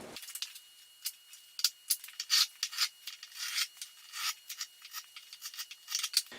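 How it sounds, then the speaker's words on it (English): A marking gauge scribes a quarter-inch chamfer line around a wooden stool part, making light, faint scratchy strokes in quick irregular bursts with brief pauses between them. "I think I'm going to do 1/4 inch all the way around, and I'll use a marking gauge for that"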